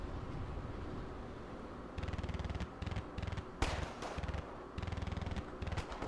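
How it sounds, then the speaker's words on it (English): ZPTU-2 anti-aircraft guns in the video game Wargame: Red Dragon fire repeated rapid bursts of rattling autofire, broken by short pauses and one sharper, louder blast midway, heard at moderate distance. "Now they're taking fire from the ZPTU-2s."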